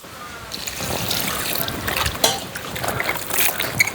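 Drumstick pieces (murungakkai) being rinsed and washed by hand in a bowl of water, with continuous close sloshing and trickling for about four seconds and small splashes along the way.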